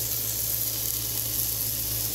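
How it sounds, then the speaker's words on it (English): Monterey Jack veggie burger patties frying in a pan, giving a steady, even sizzle close by, with a faint low hum underneath and no talking. "You can hear the sizzle."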